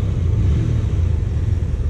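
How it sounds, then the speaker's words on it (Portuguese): Motorcycle engine idling just after being started, a steady low rumble that holds evenly throughout at close range, with no talking. "Então eu vou dar uma partida, ó. A moto ligou, galera"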